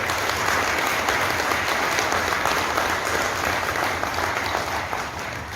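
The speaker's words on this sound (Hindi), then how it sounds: "एक बार जोरदार तालियां बजा दो आपके लिए सब लोग" Loud, sustained applause from a seminar audience of insurance sales trainees, dense continuous clapping that fills the whole stretch and tapers slightly at the end.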